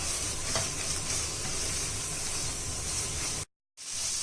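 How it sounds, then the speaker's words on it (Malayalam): Ingredients sautéing in a pan for Kerala-style karimeen pollichath, a steady close sizzle and hiss of frying that continues without talk, broken once by a brief moment of silence. "പച്ചമണം മാറി വരുന്നവരെ നമുക്ക് വഴറ്റി കൊടുക്കാം."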